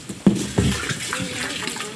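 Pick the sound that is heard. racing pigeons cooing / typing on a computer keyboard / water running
water running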